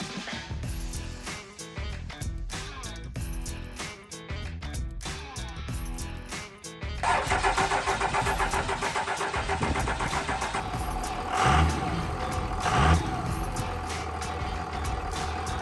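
Car engine cranking with a rapid stuttering starter, then catching and running loudly at a rough idle with a couple of blips, close by.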